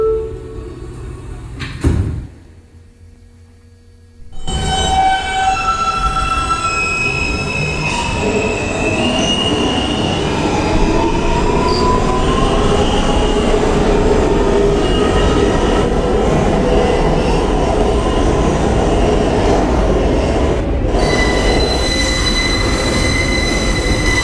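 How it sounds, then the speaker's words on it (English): A Queens-bound New York subway F local train runs along the track, wheels rumbling loudly and squealing in long rising tones. A brief near-silent gap comes before the steady roar picks up and carries on. "This is a Queens-bound F local train."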